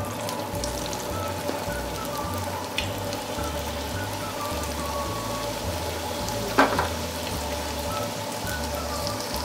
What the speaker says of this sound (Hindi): इधर ऑयल भी गर्म हो गया तो फ्राई होने के लिए रख देती हूँ।